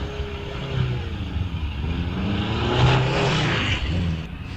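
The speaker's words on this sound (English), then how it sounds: "500cc motorcycle engine cars as the Kellaway car goes across the front of the house" A 500cc motorcycle-engined race car, the Kellaway car, accelerating at the Wiscombe Park hillclimb, its engine note rising and falling as it drives across in front of the house, fairly close and continuous.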